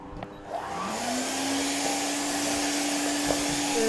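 A vacuum cleaner runs steadily while cleaning quilts and pillows, its motor whine rising as it spins up, then holding a loud, close, continuous hum and hiss with no talk.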